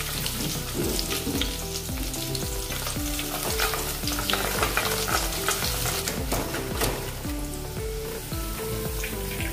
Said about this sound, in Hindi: ये भी अच्छे से भुनेंगे और तेल में तलेंगे